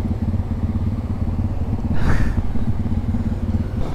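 A motorcycle with a loud aftermarket exhaust rumbles steadily and close, a deep throbbing drone that swells briefly as it passes, with no talking.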